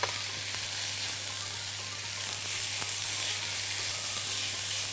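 Bell peppers fry with shrimp, onions and garlic in a pan for shrimp rice, giving a steady, close, hissing sizzle that stays constant throughout with no talking.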